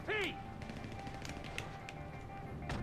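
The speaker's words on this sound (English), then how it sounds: "I'm just using my SMG." SMG gunfire in GTA V, quick light bursts of submachine gun shots at moderate distance, sparse and fairly faint against a steady game background.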